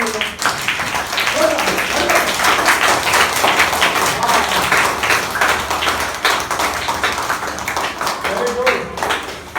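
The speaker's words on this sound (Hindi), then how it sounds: "जोरदार ताली बजाओ।" A group of children claps loudly in quick, uneven bursts in a classroom, with an adult voice speaking over and between the applause.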